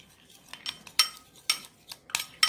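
A utensil scrapes and clinks against a bowl while salad dressing seasoned with plenty of pepper is mixed, giving a run of sharp, close, irregular taps and knocks with short pauses between them.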